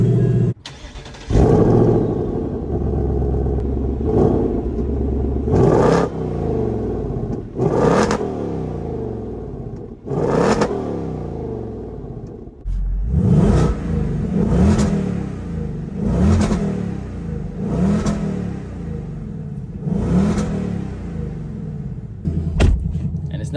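A Ford Mustang engine, either a 2024 Mustang GT Premium or a 2021 Mustang Mach 1, cranks and fires, then is revved repeatedly in loud, close bursts with a deep rumbling idle between blips, and no talk over it.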